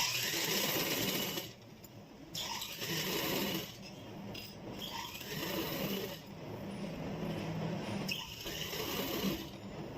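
Sewing machine stitching the sleeves onto a child's kurta, running in steady bursts of mechanical whirring broken by brief pauses between seams.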